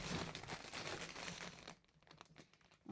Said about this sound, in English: I'm going to make some of that plasticky noise that people often apologize for